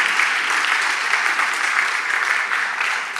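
A church congregation clapping in a steady, dense wash of applause that fades slightly toward the end, with no voices standing out.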